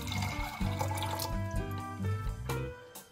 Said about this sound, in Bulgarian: На следващия ден доливаме вода в буркана, за да изплакнем нашите кълнове.